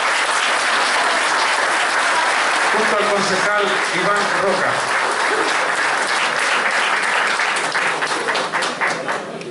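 Crowd applause greets a deputy arriving at an assembly on lifetime pensions in Lota, loud and sustained, swelling midway and tapering slightly at the end, with someone speaking over the clapping.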